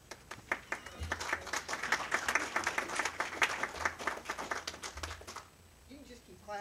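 An audience at a credit union's annual meeting claps in dense, steady applause that fades out near the end, when a voice begins speaking.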